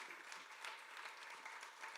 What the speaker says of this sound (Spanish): les quiero pedir un fuerte aplauso